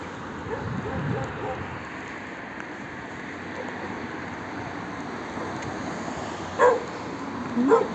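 Dogs bark in a couple of short bursts late on, moderately distant, over steady outdoor ambience and faint talk on a street in the Serbian city of Niš.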